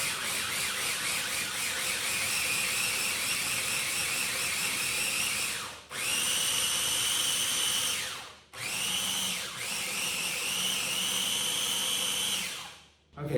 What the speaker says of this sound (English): that's how things work in a food processor